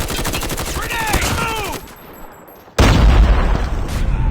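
Rapid bursts of gunfire and a grenade explosion in Call of Duty Mobile front-line combat, loud and dense, with game voice callouts and tonal effects before a brief lull and a heavy blast-led barrage.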